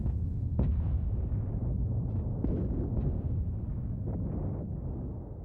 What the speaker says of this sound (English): These new, young protoplanets were bombarded by the debris.